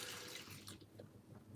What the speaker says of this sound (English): We're going to pour it into the middle of the saucepan.